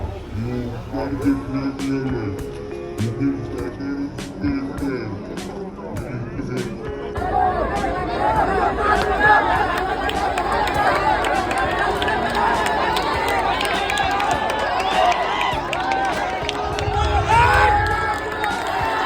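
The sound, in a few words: crowd cheering at Dahi Handi festival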